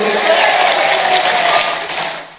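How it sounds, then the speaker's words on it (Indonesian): A crowd of mothers applauds steadily at a gathering, a dense wash of clapping that holds for a couple of seconds before tapering off. "tepuk tangan untuk ibu-ibu"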